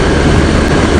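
A 2015 BMW R1200GS motorcycle engine drones in a dense, steady roar, loud and close with no breaks for the whole brief moment.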